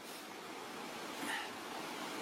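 Steady broadband rushing of a mountain waterfall in the Belledonne massif, a constant distant roar with no other distinct sounds.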